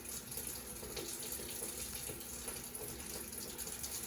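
Tap water runs steadily into a sink as dental handpieces are rinsed, a continuous close splashing stream with no talk over it.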